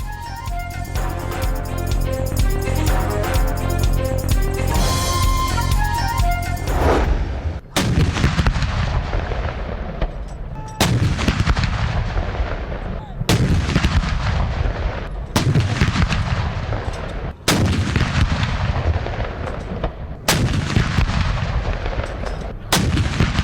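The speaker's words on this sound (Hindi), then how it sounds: "तोपों की सलामी से दिन का आगाज।" Cannons boom in a ceremonial Pakistan Day salute, a series of single heavy blasts spaced a few seconds apart, each with a long rumbling decay, after an opening stretch of music.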